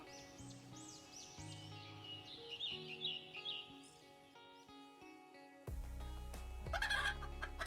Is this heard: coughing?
no